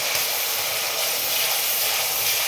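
Ginger-garlic paste sizzles in a pan with onion paste for a jackfruit and prawn curry, a steady, close, dense hiss without a break and no voices.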